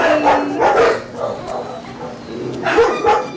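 A dog barks several times nearby at an animal shelter, a few quick woofs, a short pause, then another burst of barking.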